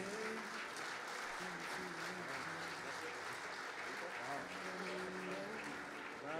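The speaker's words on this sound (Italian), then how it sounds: "mi sia consentito chiedere un applauso supplementare a Ilaria Somavilla" Sustained applause from an audience at a FISI Veneto Fair Play sports award event, a steady, fairly distant wash of clapping with voices talking underneath throughout.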